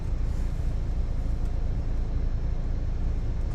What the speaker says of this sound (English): A lot of traffic on the highway